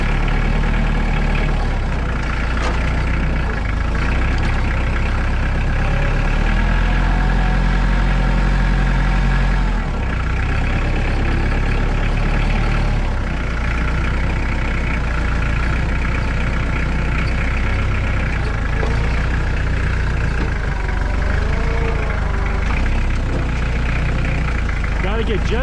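A heavy tractor engine runs steadily and loudly throughout, with a deep rumbling drone that shifts slightly in pitch as it works.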